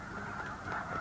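Snow geese from Wrangel Island, wintering in southern lands, give a short burst of overlapping nasal honks, moderately close and fairly quiet against a soft background.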